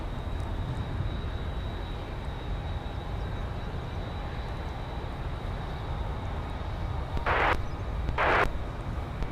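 Delta Airbus A350 at Minneapolis–Saint Paul airport, a steady broad jet rumble with a faint whine held throughout, joined near the end by two short bright bursts of noise.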